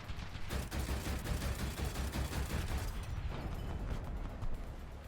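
Dense, continuous gunfire and rumbling blasts roar together in a steady barrage in War Thunder, a BMD-4M firing at an anti-aircraft gun without pause.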